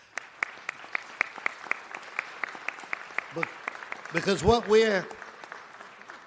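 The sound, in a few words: audience applause at a city council meeting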